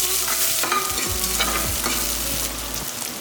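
Eight garlic cloves, three green chillies and a handful of shallots are sautéed in a pan, with a steady close sizzle and frying hiss broken by scraping stirs of a spoon and no voices.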